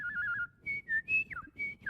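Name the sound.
person whistling an imitation bird call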